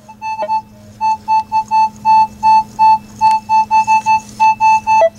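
Minelab E-trac or Garrett AT Pro metal detector sounding on an iron target in 4-tone mode, a loud, steady stream of short electronic beeps in an uneven repeating pattern over a faint hum.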